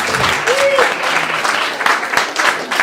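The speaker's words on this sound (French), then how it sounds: "Gabrielle Bouliane, on applaudit chaleureusement." An audience applauds warmly, a steady dense clatter of many hands clapping throughout, with a voice briefly audible under it.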